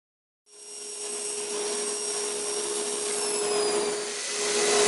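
A power saw fitted with a melamine blade starts up abruptly and runs with a loud, steady high whine and airy roar while cutting plywood up close, with no talk over it.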